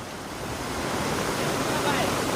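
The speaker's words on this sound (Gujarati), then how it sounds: "કેશોદમાં ધોધમાર વરસાદ હો ભાઈ" Heavy rain pours down on a village in Keshod, Gujarat, in a steady, dense roar, loud and continuous, with a voice faintly heard beneath.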